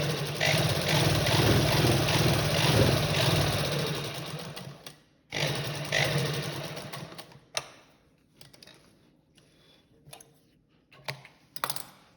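A sewing machine stitches a salwar belt in steady rapid bursts, loud and close at first, then breaking into shorter stop-start runs with quiet gaps between them.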